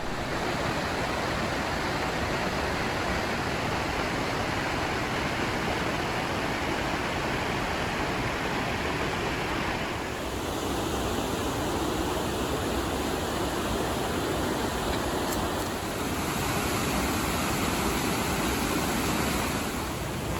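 Salmon Creek rushes through a lush, fern-filled Big Sur canyon, a steady broadband roar of flowing water that stays constant and close throughout.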